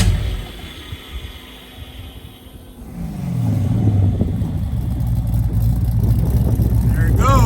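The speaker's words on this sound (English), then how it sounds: "There it goes. That 3-inch exhaust." A Porsche 928 with a 3-inch exhaust cranks and fires up, its engine catching midway and settling into a loud, low, steady rumble that fills the rest of the clip.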